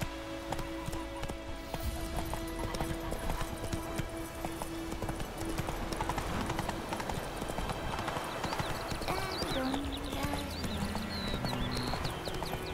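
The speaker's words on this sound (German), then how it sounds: "mit dem Pferd geht's auf jeden Fall ein bisschen schneller" Rapid clip-clop of a horse galloping in The Witcher 3, steady hoofbeats running throughout with game ambience and music underneath.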